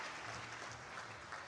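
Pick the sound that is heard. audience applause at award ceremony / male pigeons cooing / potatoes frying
audience applause at award ceremony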